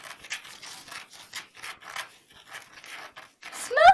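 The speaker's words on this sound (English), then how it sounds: "Sand and macaroni cheese dust is being stirred." Sand and macaroni cheese powder stirred together in a bowl, giving a run of soft, dry gritty scrapes and rubs in short repeated strokes, close up and fairly quiet, ending with a louder scrape.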